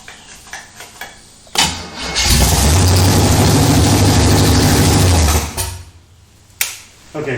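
A Chevy 307 V8 cranks and catches on its first start, then roars at high, steady revs for several seconds before dropping off, with further cranking bursts at the start and end.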